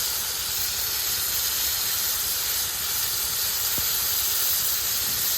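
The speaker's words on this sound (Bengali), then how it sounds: "মশলাটা ভালোভাবে কষিয়ে নিই" Spices fry in a pan with a constant loud sizzling hiss that stays steady and close throughout.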